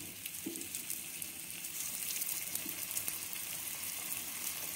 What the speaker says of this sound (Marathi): एक एक गोळे आपण हे आप्पे पात्रात ठेवून घेऊयात